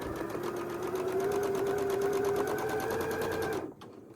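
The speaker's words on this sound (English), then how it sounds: "And then I'm sewing up the side." A sewing machine stitches a quilt block seam with a fast, steady, close mechanical whir, the needle's rapid rhythmic ticking running continuously before stopping abruptly near the end, with no talk.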